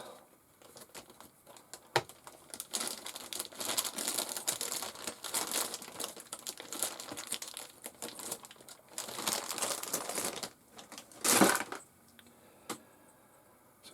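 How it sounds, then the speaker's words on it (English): Fibrous plastic is cleaned off Tamiya TT02 RC car chassis parts, making a close, continuous patter of small crinkling and scraping crackles, with a brief sharp click near the end. "So we'll just clean off this plastic."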